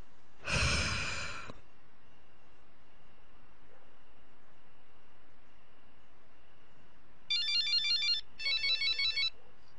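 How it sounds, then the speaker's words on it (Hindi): Two bursts of an electronic phone ringtone trill at the end, after a quiet room, with a long sigh or breath heard earlier; no talking. "लो देखो तो, फिर सोते टाइम कॉल आ गई।"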